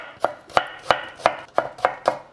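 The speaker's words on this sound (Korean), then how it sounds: "이제 야채를 잘라볼 건데요." A knife chops onions on a cutting board in a home kitchen, seven sharp, evenly spaced strikes at a steady rhythm, close and clear with no talking.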